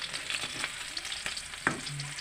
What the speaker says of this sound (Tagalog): Bisa, luya at saka bawang muna mga sahog mga guys.